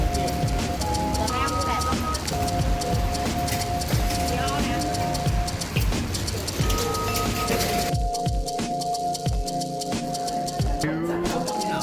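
Hard rain pours on a Barcelona street, a steady dense hiss of drops on pavement blended with passing traffic and clinking, while voices and tonal background sounds carry over it.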